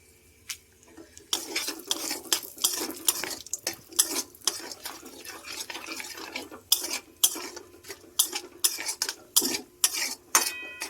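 Whole spices such as cinnamon, cardamom, cloves, mace and chili being fried and stirred in a pan, with a metal utensil scraping and clinking in quick irregular strokes over a soft sizzle, close and moderately loud.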